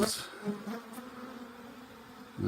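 Honey bees buzzing around an open hive during an April inspection, a continuous close drone with a few louder passes as individual bees fly near, no talking.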